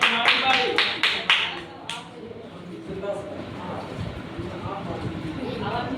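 An audience at a kids' magic show claps in a quick rhythmic burst of about six claps. The applause fades after two seconds into a murmur of voices and room noise.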